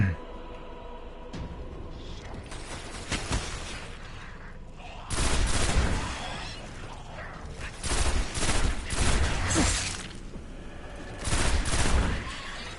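Rifle gunfire in Destiny, fired in loud short bursts separated by pauses, with mechanical clatter and game ambience between volleys.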